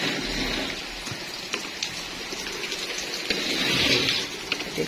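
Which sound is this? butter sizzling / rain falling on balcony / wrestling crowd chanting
rain falling on balcony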